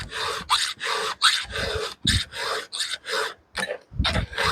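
A hand file rasps across a chainsaw chain in quick repeated strokes, about a dozen rhythmic scraping pulls, close and crisp with short gaps between them.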